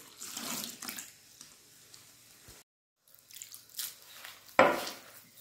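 Water poured in gradually while dough for Kabyle beignets is mixed by hand, with splashing and trickling bursts, a brief pause, then a louder pour near the end.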